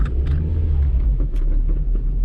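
An $80 Copart salvage car drives through mud, its engine a loud, continuous low rumble close by with no break.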